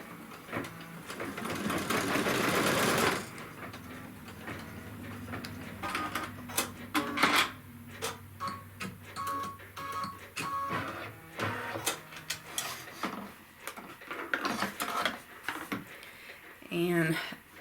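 Embroidery machine stitching a trim line on a hoop sampler: a loud whirring burst at first, then rapid mechanical stitching runs in short uneven bursts and pauses, with a voice speaking over parts of it.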